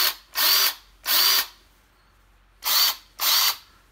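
A Parkside PDSSA 20-Li A1 cordless brushed impact wrench rated at 180 Nm whirs up close in four short, loud bursts, each revving up and cutting off, with silent gaps between.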